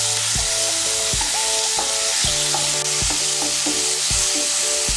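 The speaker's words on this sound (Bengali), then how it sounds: "টমেটো কুচিটাকে তেলের সঙ্গে মিশিয়ে নেব।" Chopped tomato is stirred into hot oil for a Bengali soybean kofta curry, giving a loud continuous sizzle. Repeated scraping and clinking of a spoon against the pan runs through it, with no talking.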